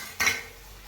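A single short metallic clink and scrape of a spoon against a pot while stuffed vegetables are mixed, fairly close and alone, followed by quiet background.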